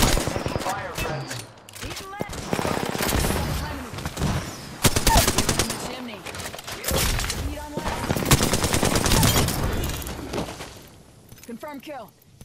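Rapid automatic gunfire and single shots in Apex Legends, loud and close in repeated bursts with sharp cracks, mixed with in-game voice callouts and effects.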